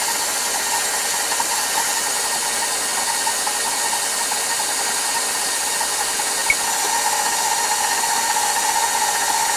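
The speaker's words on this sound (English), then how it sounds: "we're going to mix this stuff up for anywhere between, like I said, 30 to 45 seconds" An electric mixer beating Linzer cookie dough: a loud, steady mechanical whir with a grinding edge that runs unbroken for the whole stretch, with no voices over it.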